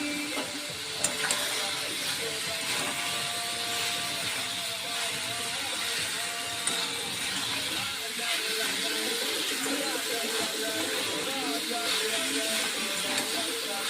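Drained young jackfruit sizzling steadily in a hot pan, a continuous broadband hiss and crackle holding at an even level throughout, with faint kitchen clatter beneath.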